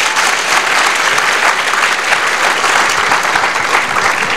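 An audience at a French-language coaching workshop breaks into dense, loud applause, a continuous wash of many hands clapping together without pause from start to finish.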